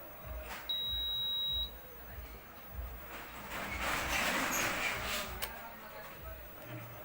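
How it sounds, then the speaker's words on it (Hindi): Repaired induction cooker sounding its test beep on power-up: one clear electronic beep near the start, followed by buzzing, clattering workshop noise. "देख रहे हैं इसमें बीप का आवाज़ आ चुका है।"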